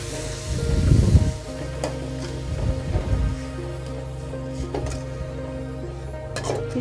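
Ground tomato and onion paste frying in hot oil with a spoonful of cumin for an Indian rohu fish curry, giving a soft, steady sizzle with a couple of louder stirring surges early on.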